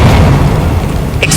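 Fiery Confringo and Incendio spell blasts from the video game Hogwarts Legacy, loud booming explosions rumbling continuously with a sharp burst near the end.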